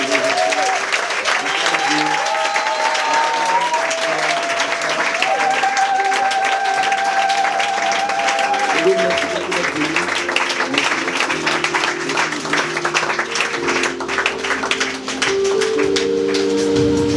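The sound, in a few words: applause and acclamation welcoming the moderator at church event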